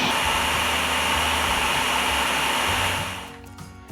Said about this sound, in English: Blitz until they're finely chopped but not a paste.